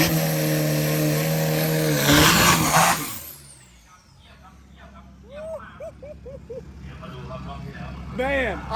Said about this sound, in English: Epic burnout! These things are epic burnout!